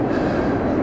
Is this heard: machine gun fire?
no